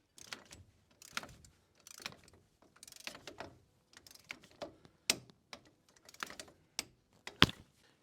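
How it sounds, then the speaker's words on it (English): A torque wrench tightening strut bolts on a car's steering knuckle to 70 foot-pounds during a wheel bearing and hub job: repeated ratcheting clicks in short bursts, close and fairly quiet, ending with a sharper click, no speech. "we're going to torque down our strut here on the knuckle to 70 foot-pounds."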